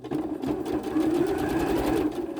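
A sewing machine runs steadily while stitching a fabric zipper pouch, a close, continuous whirring hum with a fast even stitch rhythm that holds at one loud level throughout, with no voices.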